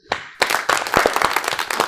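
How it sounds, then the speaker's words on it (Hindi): A few people clap at a business talk about the textile trade in Surat, a short uneven burst of claps starting after a single clap, close and fairly loud, with no talk over it. "इनके इस विचार के लिए जोरदार तालियां हमें जरूर बजानी चाहिए।"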